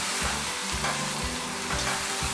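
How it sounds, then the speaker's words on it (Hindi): Meat and masala frying for aloo gosht: a loud, dense, continuous sizzle with faint rhythmic scraping from a stirring spoon, close up and without voices. "अब इसमें हम मसाला शामिल कर देंगे, सारा मसाला इसमें शामिल कर देंगे। थोड़ा सा इसको भूनेंगे हल्का सा"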